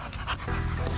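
American Bully pit bull dogs pant rapidly and loudly up close while playing, a continuous breathy panting with no talk.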